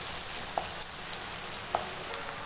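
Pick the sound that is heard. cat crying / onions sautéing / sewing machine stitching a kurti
onions sautéing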